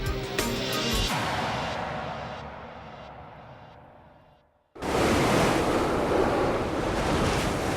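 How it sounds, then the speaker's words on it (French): Short, steep Norwegian Sea swell slaps against a sailboat in loud, wind-buffeted surges, fading after a heavy crash before a new roaring wave of water and wind noise rises, with no voices. "la mer de Norvège déploie une houle courte et abrupte qui coupe les estomacs"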